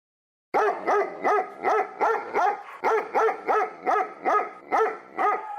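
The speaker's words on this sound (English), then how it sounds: "Bark, bark, bark." A dog barks in a steady series of about twelve loud, evenly spaced barks, close and clear with no talking over them.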